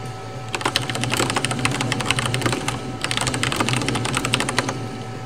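Rapid bursts of typing on a blank computer keyboard during Typing of the Dead: Overkill, dense clattering keystrokes in two quick runs, close and crisp over a low game hum.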